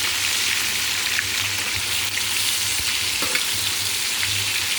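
Food cooks in a pan on an induction stove with a loud, steady sizzle that runs without a break, plus a few faint pops and clicks.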